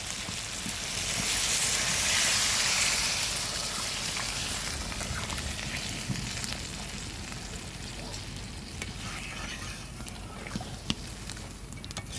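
Mutton boiling water pours into a sizzling village-style mutton curry, raising a loud, steady hiss of frying that slowly settles into a softer bubbling sizzle.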